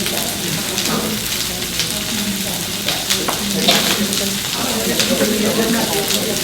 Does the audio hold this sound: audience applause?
no